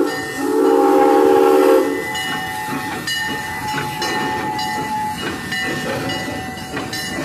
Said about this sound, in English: That's one train.